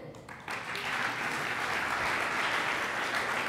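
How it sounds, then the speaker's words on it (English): Closing-session audience at a Python open-source conference breaks into applause, a dense steady clatter of many hands that starts abruptly and fills the room at full strength, without voices over it. "I want you guys to give yourselves a round of applause."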